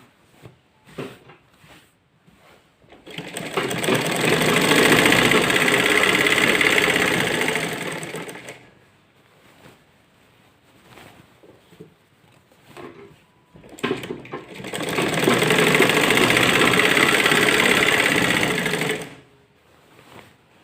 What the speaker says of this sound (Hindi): इसी तरह से पूरी गोलाई पे हम सिलाई कर लेंगे।